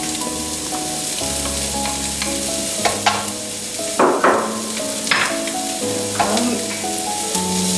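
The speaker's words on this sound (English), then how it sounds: "So now we add our onion and garlic to the pan." Onion and garlic sizzle and fry in a hot pan, a steady hiss with occasional stirring scrapes and clinks, up close and with no talking over it. Tonal music plays faintly underneath throughout.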